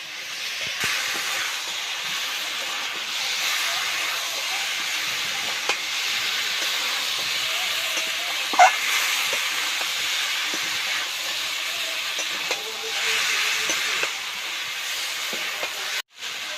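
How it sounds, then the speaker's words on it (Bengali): Hot oil sizzles steadily in a pan as fried cauliflower, potato and carrot cook with spices, a continuous bright hiss with a few faint pops and clinks throughout. "দেখুন তেল উপরে উঠে উঠে যাচ্ছে। এখন ভেজে রাখা ফুলকপি আলু গাজর দিয়ে দেব।"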